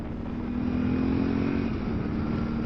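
A 2024 Yamaha Tenere 700 motorcycle, fitted with a new Barnett clutch, runs with a steady, close engine drone and a slight shift in pitch partway through, with no talk.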